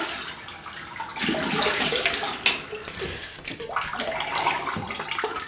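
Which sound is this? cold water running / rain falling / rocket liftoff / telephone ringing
cold water running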